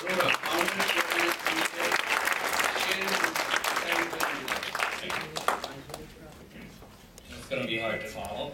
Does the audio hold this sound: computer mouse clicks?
no